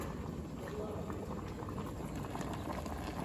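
Water at a steady rolling boil in a pot holding dried fish (daing) in a rural provincial kitchen, a dense continuous bubbling patter, close and even throughout with no voices.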